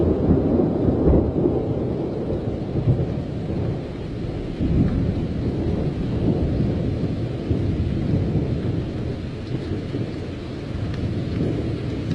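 Heavy rain pours steadily while low thunder rumbles and rolls through the whole stretch, with no voices.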